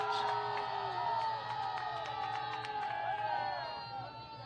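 A crowd at a youth football state final between the Eastern Arizona Wildcats and the Arizona Arrows yells and cheers with drawn-out shouts and whoops, sounding somewhat distant and fading slightly toward the end.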